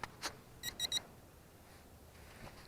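A cheap toy drone gives a quick cluster of three short, high electronic beeps close by, followed by faint background noise and a soft click.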